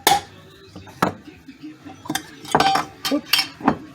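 Glass home-canned jars, filled with preserved food, being popped open in a kitchen: several sharp clinks and pops spaced irregularly over a few seconds, close and clear with faint background clatter.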